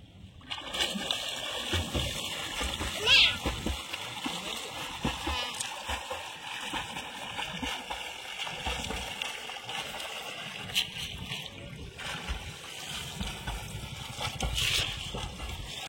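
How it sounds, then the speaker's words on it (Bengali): Someone swimming in monsoon-swollen pond water, with soft, continuous splashing and sloshing strokes nearby, a louder splash now and then, and voices murmuring faintly under it. "আমি সাঁতার কেটে আজকে দেখাবো আপনাদের, ভীষণ ভালো লাগবে। আর অনেকটাই জল বেড়ে গেছে বর্ষায়।"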